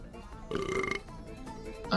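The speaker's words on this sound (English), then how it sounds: "that was a real burp" A person lets out a single loud, throaty burp that lasts about half a second partway through, with quiet room tone before and after and a short sharp noise at the end.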